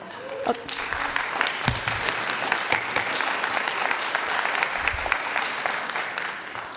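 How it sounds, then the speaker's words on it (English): An audience bursts into sustained clapping at a city council meeting during public comment, a dense crowd applause holding steady and fairly close, with a few low thumps underneath. "we're not going to do clapping between"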